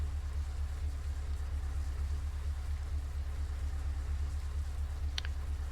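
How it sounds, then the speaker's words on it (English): A truck engine in Euro Truck Simulator 2 gives a steady, low droning rumble that runs unchanged throughout, with a faint brief click near the end. "That's a nice sounding truck again."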